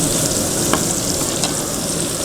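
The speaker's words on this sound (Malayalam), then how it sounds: "എണ്ണ ചൂടായിട്ടുണ്ട്, നമുക്കിതിലേക്ക് ചിക്കൻ ആഡ് ചെയ്യാം." Chicken pieces dropped into hot sunflower oil fry with a loud, steady, dense sizzle and crackle, close up, with a couple of sharper pops along the way and no talking.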